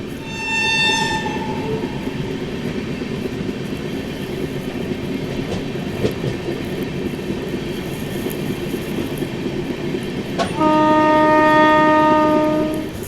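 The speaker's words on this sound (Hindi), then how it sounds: "काफ़ी धीमे रफ्तार में हमारी ट्रेन चल रही थी" The Marathwada Sampark Kranti Express 12753 rumbles along slowly, its carriages rattling steadily while a loud two-tone train horn blares at the start and again near the end.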